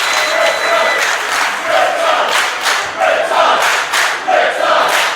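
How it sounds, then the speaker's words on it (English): A wrestling crowd at Riptide 2019 roars and chants wildly, loud rhythmic surges of shouting and cheering pulsing repeatedly, close and overwhelming. "the crowd are going insane"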